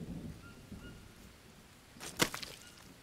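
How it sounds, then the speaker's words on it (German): Thunder rumbles low beneath a steady wash of rain in the jungle survival game Green Hell, ending in one sharp, crackling thunderclap near the end. "Da kommt ein Gewitter."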